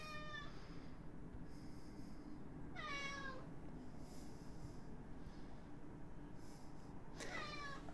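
A cat indoors meows and yells insistently at a closed door, giving three drawn-out descending cries spaced a few seconds apart over a low, steady background hum.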